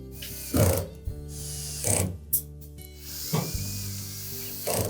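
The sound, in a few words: tightening bolts on dryer drum support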